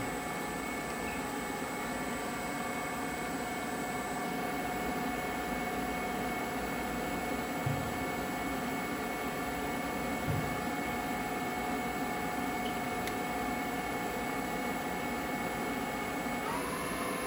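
A 2014 Southwestern Industries Trak DPMSX3P CNC bed mill spindle spinning at 2000 RPM, a steady machine whine and hum with no breaks, droning alone with no voices.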